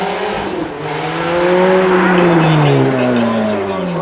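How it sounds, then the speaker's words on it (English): An Italian V8 car engine revs up and settles, its deep exhaust note rising and falling in a loud, close, sustained roar. "Those revs and the exhaust just opening itself up there"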